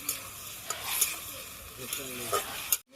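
Vegetables are sautéed with salt and turmeric in a pan over a handmade clay village stove, with steady soft sizzling and a few louder stirring scrapes; there is no talk.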